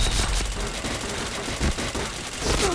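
Rapid bursts of gunfire from the video game Point Blank ring out in quick repeated volleys, close and fairly loud, with no talk.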